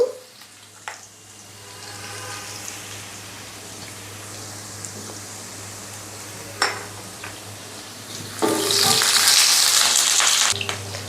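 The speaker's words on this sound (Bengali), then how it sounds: "এখন আমি দিয়ে দিচ্ছি রসুন কুচি। প্রথমে আমি রসুনটাকে হালকা ভেজে নেব।" Chopped garlic fries in hot oil in a pan, giving a steady low sizzle that swells into a louder, hissing crackle near the end, with a few clinks of a utensil against the pan.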